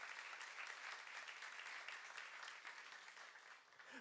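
A church youth-service congregation applauds during a sermon, with steady, even clapping from many hands that sounds somewhat distant and fades slightly toward the end.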